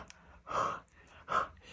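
Two quick, close huffs of breath are blown onto a Stampin' Up! rubber stamp to moisten its ink, each a soft, breathy puff separated by a short pause.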